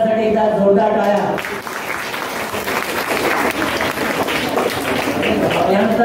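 Loud audience applause at a school Independence Day celebration, a dense, sustained burst of clapping that starts just after a voice finishes speaking and continues steadily to the end.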